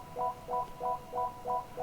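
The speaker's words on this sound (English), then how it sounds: "I've just been adding these like little piano type of notes that sit kind of in the top end" Quick little piano-like chords in a Christmas-style FL Studio beat come as short, bright stabs high in the mix, repeating six times in an even rhythm over a faint, hissy backing.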